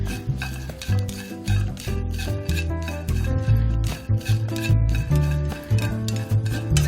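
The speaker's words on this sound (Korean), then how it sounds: "새우 같이 볶으셔도 돼요. 네. 그래서 마른 팬에서 볶아주세요." Shrimp being stir-fried in a dry pan without oil, with rhythmic scraping and rattling as a utensil stirs them across the pan, close and steady, no talking.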